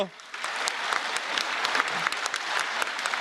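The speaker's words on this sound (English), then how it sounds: "as you can hear the applause also from other colleagues" Members of a parliamentary plenary session applaud together, a dense, steady wash of many hands clapping in a large chamber that continues unbroken throughout.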